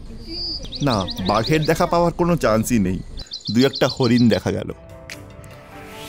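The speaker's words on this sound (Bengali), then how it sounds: "আর আমরাও নানা রকম পাখির ডাক শুনতে পেলাম।" Birds in the Sundarbans mangrove forest give short, high, rapidly repeated chirps, one burst at the start and another midway, partly under a person talking.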